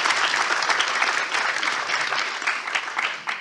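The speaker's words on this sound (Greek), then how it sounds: "Μπορούμε να ξεκινήσουμε να εισάγουμε και τα χειροκροτήματα στο τέλος του κλιπ" Steady, dense applause from a crowd, loud and continuous throughout with no pauses, the clapping filling the whole stretch evenly.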